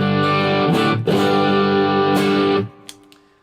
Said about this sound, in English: It just sounds like a big old Marshall turned up till it's rumbling on the floor.